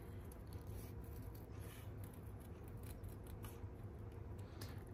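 Scissors cutting paper along a black line, snipping steadily as the paper is turned, over a constant low hum that persists throughout with no speech.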